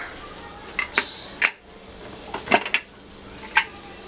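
A pressure cooker of masala rice being opened, a series of sharp metallic clinks and clatters of the lid and pot, spaced irregularly and close up, with no talking.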